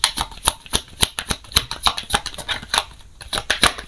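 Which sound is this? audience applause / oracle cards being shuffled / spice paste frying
oracle cards being shuffled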